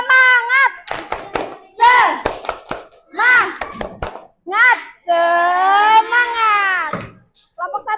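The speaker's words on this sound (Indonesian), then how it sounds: "Kita beri tepuk semangat dulu sebelum maju." A school class giving a rhythmic cheer clap: bursts of quick group handclaps in a set pattern alternate with children's chanting voices, loud and close in a classroom.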